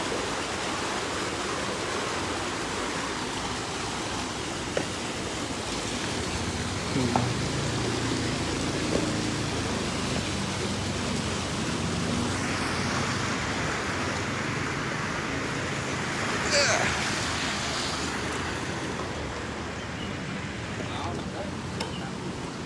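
A flooded river about five metres wide pours into a culvert only two metres wide, a continuous loud rushing roar of water with no break.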